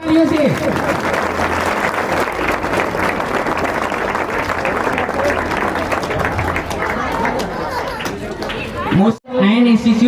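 Loud, sustained audience applause fills a school inauguration ceremony, dense clapping mixed with crowd chatter and a voice over a speaker, ending abruptly near the close.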